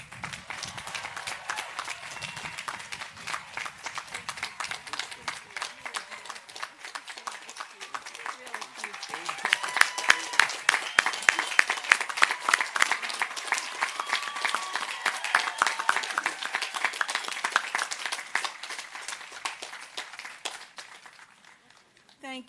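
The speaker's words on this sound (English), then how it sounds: "The applause from your classmates, from everyone here." Crowd of graduating classmates clapping at a 2021 undergraduate commencement, steady applause that swells louder midway and then tapers off near the end, with voices faintly mixed in.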